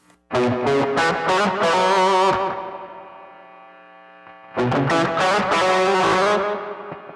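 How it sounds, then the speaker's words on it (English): Two bursts of distorted electric guitar play quick lead phrases, each ending on a sustained note that rings and fades, separated by a short pause. "And when you put the first two phrases together, this is what it sounds like."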